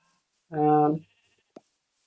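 A single sheep in a video game gives one clear, loud half-second bleat, followed by a short faint click and then quiet.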